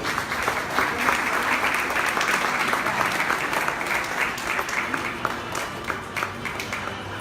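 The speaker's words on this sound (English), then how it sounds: "Congratulations, a big applause." Audience at an Argentine art festival exhibition opening applauding a very young artist's special prize, steady full clapping throughout that eases slightly toward the end.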